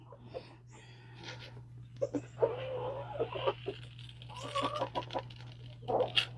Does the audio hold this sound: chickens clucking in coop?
yes